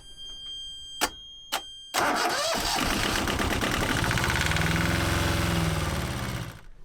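A few sharp clicks are followed by a boat engine that cranks and catches, then runs with a rough, loud rumble at very low RPM for several seconds before stalling.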